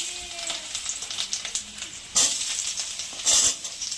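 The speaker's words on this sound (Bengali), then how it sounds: "এবার আলুগুলো আগে একটু ভেজে নেব।" Potatoes frying in oil with dried red chillies, bay leaves and panch phoron, a close sizzle with crackling bursts and two louder hissing flare-ups as the pieces are stirred.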